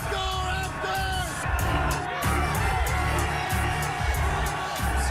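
Raptors fans at Scotiabank Arena roar and whoop in a big, continuous crowd din for an NBA Finals game, with shouts and yells rising out of the wash of noise.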